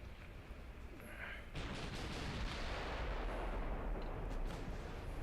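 Naval guns fire in the warship game Ultimate Admiral Dreadnoughts, a heavy booming salvo that swells into a sustained rumbling roar of gunfire, loud and with no one talking.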